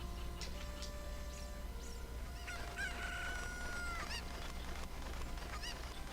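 Chickens in the Ocarina of Time video game crow and cluck in several short, bright calls over a steady low background hum.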